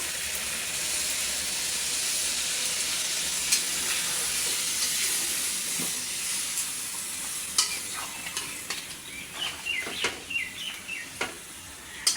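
A roast that has been browned in a pan sizzles steadily while milk goes in, with stirring, scraping clicks and a few faint bird calls toward the end; no one speaks.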